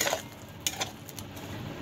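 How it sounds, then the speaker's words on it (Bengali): Sugar being stirred into soybean curry in a pan: a few sharp spoon clinks and scrapes against the pan, close but fairly quiet, spaced irregularly over a soft background, with no speech. "চলো এটার মধ্যে নাড়িয়ে দিই।"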